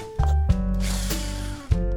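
A power drill drives a screw into a wall while a storage rail is mounted, giving a short whirring burst that starts, runs steadily for over a second and cuts off, near and fairly loud.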